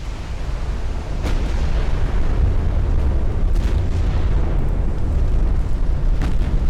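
Naval battle explosion and flash fire aboard the battleship Montana in the warship game Ultimate Admiral: Dreadnoughts, a sustained deep rumbling roar with a few sharper bursts standing out, loud and continuous with no talk.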